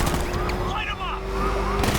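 A dense rattle of gunfire from Batman: Arkham Knight carries on steadily at moderate volume, with radio-like voices speaking over the shooting.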